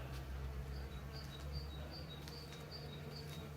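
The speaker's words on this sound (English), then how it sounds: "I want to survive the bees as well" Bees buzz faintly outdoors beside old stone walls built from local rock in Irthlingborough, a thin insect drone with intermittent high chirping layered over a steady low hum.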